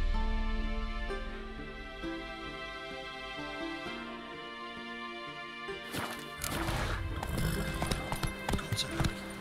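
Hooves of Roach, a horse in The Witcher 3, clip-clop at a steady rhythm over a bed of game music, growing louder and busier toward the end.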